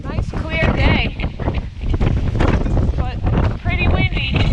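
Strong gusting wind buffets the microphone on a clear mountain summit in the White Mountains, a steady roar with louder surges throughout, while people talk over it.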